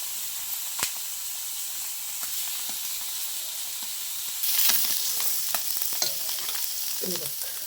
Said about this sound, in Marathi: बाकीचे जे काही दोन तीन पीस आहेत ते पण आपण आता फ्राय करून घेतो आहे